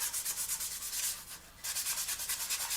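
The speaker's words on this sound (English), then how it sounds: "we're just going to come in with our sanding stick, take out that fingerprint" A sanding stick rubs rhythmically across a plastic Academy 1/48 F-4B Phantom model kit part, a close, quiet hiss of steady back-and-forth strokes with a brief pause midway.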